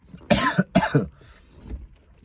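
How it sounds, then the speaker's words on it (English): Two or three harsh, close coughs in quick succession, followed by softer throaty breathing. "I have a cough"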